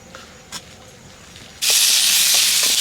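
Raw mango dropped into hot oil with five-spice tempering, dried chilli, turmeric and salt, bursting into a loud, steady sizzle after a quiet start with a few faint clicks, at an outdoor village picnic cookout.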